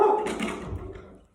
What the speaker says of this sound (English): That's my dog. I have a Rottweiler.